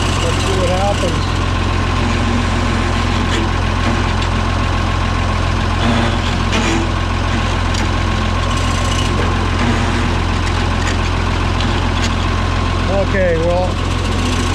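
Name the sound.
Cockshutt 1850 tractor engine running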